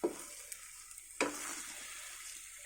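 A spoon stirs and scrapes through sticky biko, a rice cake with oil seeping out, in a few distinct strokes over a soft, low sizzle, with no one talking.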